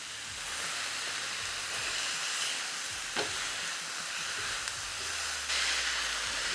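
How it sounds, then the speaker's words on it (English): Smashburger patties sizzling on a Ninja Sizzle griddle, a steady loud hissing sizzle throughout with a few faint scrapes and clicks, no voices. "Hear that sizzle, baby?"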